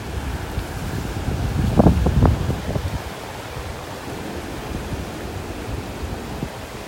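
Steady wind blowing across a microphone on a sandbar at a Gulf beach in North Naples, Florida, a continuous broadband rush with a brief louder gust and faint surf underneath.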